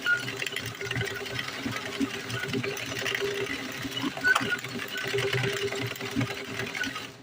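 An automatic tricotin knitting machine is cranked at a steady speed, giving a continuous close mechanical whirring and rattling with a fast rhythmic churn, under a person talking.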